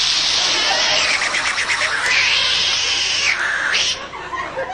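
A voice imitates a brother's loud sleeping snore, made to sound like a cat in heat: a strained, wailing, warbling cry that rises, holds and bends, loud and close, with a short shift in pitch near the end.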